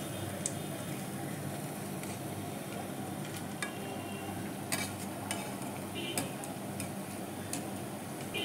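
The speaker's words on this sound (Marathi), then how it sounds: "आपण ते दोन्ही साइडनी भाजून घेऊया वडे।" Dahi vada patties shallow-frying in a pan, browning on both sides: a steady, dense sizzle and crackle runs throughout, with occasional sharper pops and clicks over the continuous frying hiss.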